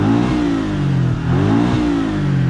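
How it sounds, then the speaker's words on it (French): A Porsche Cayman 718 with a 2-litre flat-four engine revs loudly and close, a steady, throaty boxer drone rising and falling in pitch with a brief dip midway, no voices. "Ce 2 litres en 4 cylindres à plat, donc c'est-à-dire vous avez 2 cylindres à plat de chaque côté"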